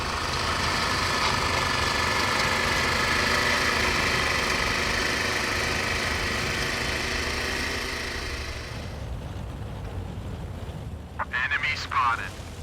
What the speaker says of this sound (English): this tank can only fit a land mower engine